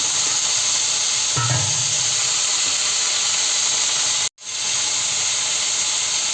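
Tomatoes go into a hot pan for a pumpkin curry, and a loud, continuous sizzling hiss follows. A brief thump marks them landing, and the sizzle cuts out for a moment before returning, close and steady.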